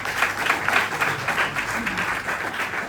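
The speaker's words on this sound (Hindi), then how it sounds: "तो रवि सर आपको इंस्पायर कर सकते हैं आपकी जोरदार तालियों के बीच" Enthusiastic audience applause welcoming a speaker to an indoor event: a loud, continuous wash of many hands clapping at once, steady from start to finish with no clear speech.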